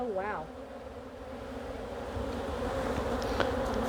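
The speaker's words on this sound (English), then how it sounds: "A lot of bees" Swarming honeybees at Baton Rouge Bee farm buzz in a dense, continuous drone close by, with a brief voice at the start and the hum rising slightly.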